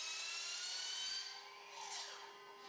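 A steady, high-pitched rasping noise of a stair profile for a wooden floor being cut to size, running continuously, easing off and swelling again toward the end.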